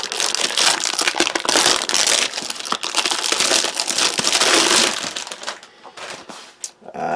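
A knife saws through the cardboard top of a French 24-hour halal combat ration box, making a loud, close, continuous scraping crackle that tapers into a few sharp crinkles.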